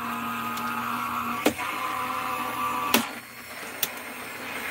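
Die-cutting machine straining as it rolls an ultra-thick 3D embossing folder through, a loud continuous motor drone broken by three sharp cracking clunks.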